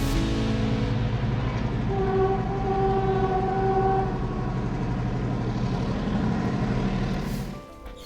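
A train pulls out of Yala station in Sri Lanka with a steady, loud rumble and rattle, and a long horn-like tone sounds partway through. The noise fades near the end, and there is no talk.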